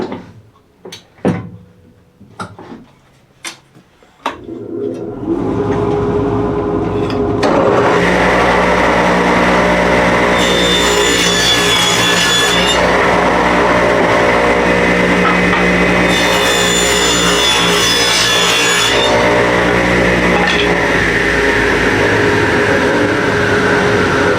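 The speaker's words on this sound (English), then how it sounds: "let's go ahead and cut that on that table saw" A table saw cuts wooden fence pickets for a DIY planter box. A few knocks come first, then the motor spins up to a loud steady whine, and two longer cutting passes rise above it.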